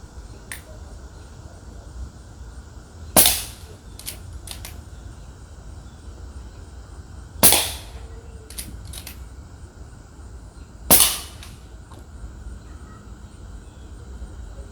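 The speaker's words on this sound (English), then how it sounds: "I'm gonna shoot 3 shots." Three sharp, loud PCP air rifle shots firing Crosman 14.3 grain pellets, spaced about four seconds apart, each a crisp crack with a brief ringing tail over quiet background.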